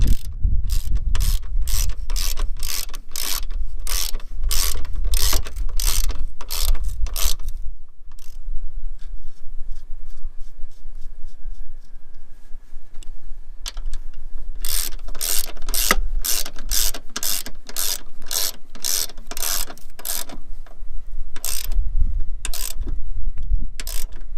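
Ratchet tightening the front strut bolts on a Mazda 6: rapid clicking pawl strokes in two long bursts with a brief pause between, close and fairly loud, no talking.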